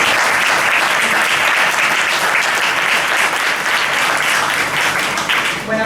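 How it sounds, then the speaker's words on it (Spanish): An audience at a poetry and wine event applauds, a dense, even wash of clapping that carries steadily for several seconds before beginning to fade. "Un aplauso para ella"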